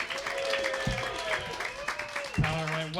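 A comedy club audience at a roast battle claps steadily, with moderate applause under voices and some crowd murmur, fairly quiet overall and without clear peaks.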